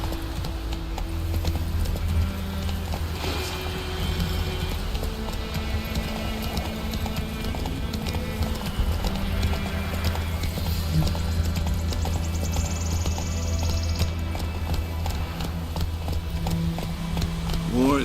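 A horse gallops in The Witcher 3, its steady clip-clop hoofbeats rolling continuously at close range over a layered bed of game ambience and music.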